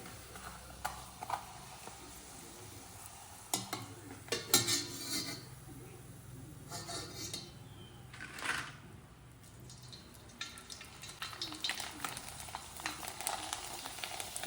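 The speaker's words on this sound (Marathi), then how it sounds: "आपल्याला हे थोडासा प्रेस करून तळून घ्यायचा आहे म्हणजे आपला पापड छान फुलला जाईल" Poha papads frying in hot oil while pressed down in a pan, a quiet sizzle broken by clinks and scrapes of a utensil against the pan, with a few louder bursts of bubbling.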